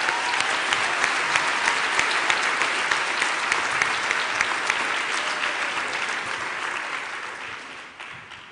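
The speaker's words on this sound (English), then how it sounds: "I'd really like to give your guests and your family members a round of applause, graduates" A large crowd at a university graduation ceremony for health faculty graduates in Gqeberha claps warmly and steadily, sustained applause that fills the hall and slowly tapers toward the end.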